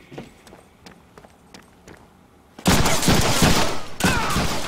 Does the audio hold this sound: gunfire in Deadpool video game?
yes